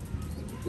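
Racing pigeons give soft, low cooing close by in one brief burst.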